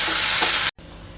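Frozen peas and green chillies frying with tomatoes in a pan, with a strong close hiss and sizzle that cuts off abruptly, leaving only a faint, quieter background.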